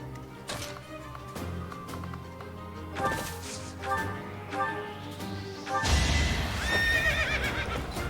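A horse in the video game Fire Emblem gives a sharp whinny, followed by clip-clopping hooves and a crashing attack impact, all layered over the game's background music.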